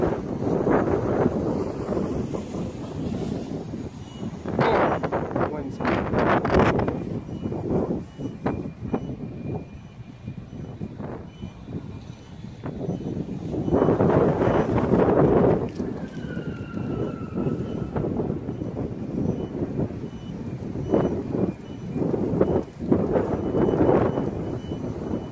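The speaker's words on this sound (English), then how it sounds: "Man, the wind's blowing me hard over towards the construction yard there." Wind buffets the microphone of a small FPV drone in flight at night, loud rumbling gusts that surge and fade, with the thin motor whine of the quad faintly underneath.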